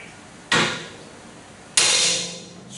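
Two loud, sharp metallic strikes spaced about a second apart as a forcible entry tool is hammered to drive an adze into the gap of an outward-opening metal door, each impact ringing briefly before decaying.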